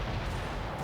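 Grenade explosion in the video game The Chronicles of Riddick: Escape from Butcher Bay, a brief, dense, low boom filling the whole moment.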